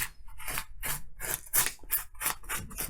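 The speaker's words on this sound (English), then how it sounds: "rub the salt off." A paper towel scrapes dried salt crystals off a watercolor painting in about eight short, rhythmic rasping strokes, close and fairly quiet with brief pauses between them.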